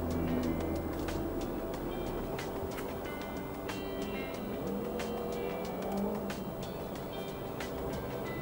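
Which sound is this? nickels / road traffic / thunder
road traffic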